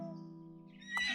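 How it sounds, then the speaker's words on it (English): A horse in the video game Potion Pony gives a short, high, tonal neigh followed by a quick burst of louder clattering, all within about a second, heard without any talk. "Okay, well, I'm going to grab my horse then."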